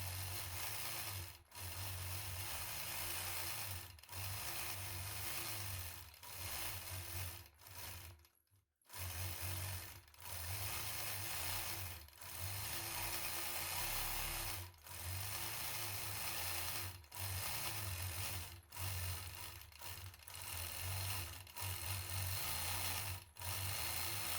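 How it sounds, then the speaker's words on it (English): A sewing machine doing free-motion quilting of feathers on a block runs in a steady, quiet mechanical whir, broken by regular short pauses and one longer stop midway, with no talking. "Stitch the remaining feathers around the block, moving in clockwise direction."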